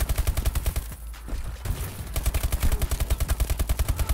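Rapid automatic gunfire in the multiplayer shooter Call of Duty: Advanced Warfare, an ASM1 submachine gun rattling in fast, evenly spaced bursts with a short pause midway, close and punchy.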